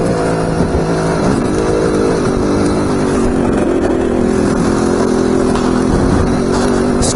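An engine idles steadily through a piston break-in run, with no one speaking; a loud, continuous droning hum with a faint wavering pitch carries on for the whole stretch.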